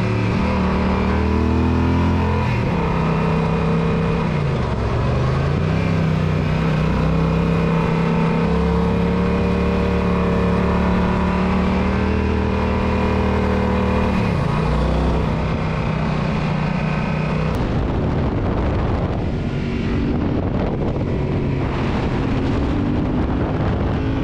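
A Yamaha Super Tenere XT1200Z motorcycle drones loudly on asphalt, its engine note holding steady with brief dips around gear changes, wrapped in heavy wind rush over the microphone.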